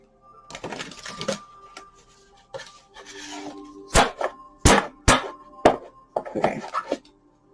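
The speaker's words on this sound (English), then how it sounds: "I'm going to shuffle these." Tarot cards being shuffled by hand nearby, with a series of sharp riffling snaps and clacks in irregular bursts and soft rubbing between them.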